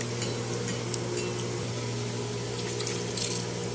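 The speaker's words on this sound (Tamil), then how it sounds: "கழுவிட்டு தேவையான வேக வைக்கிறதுக்கு தேவையான அளவு தண்ணி ஊற்றிட்டு" Water streams onto washed moong dal in a bowl while rava pongal is being prepared, a constant, even rush of liquid with a low steady hum beneath it and no talking.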